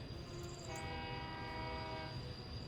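A train in the video game Workers & Resources: Soviet Republic sounds a long, sustained horn over steady rolling rail noise, loud and continuous with no talking.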